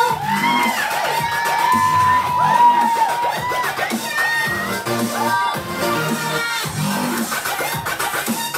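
A concert-style crowd at a T-shirt launch event screams and cheers loudly and continuously for a band member, with high-pitched shrieks and whoops layered over a dense, sustained roar.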